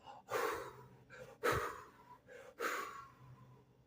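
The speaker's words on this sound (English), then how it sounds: "I need to take a deep breath." A person takes several deep breaths, three or four audible inhales and exhales spaced about a second apart, close and fairly quiet, with no talking.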